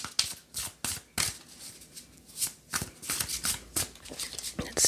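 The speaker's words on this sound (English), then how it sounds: "Let's go ahead and let's pull some more cards." Tarot cards are shuffled and pulled during a reading, giving close, crisp riffling bursts and slaps in an uneven rhythm, loud and clear with no talk over them.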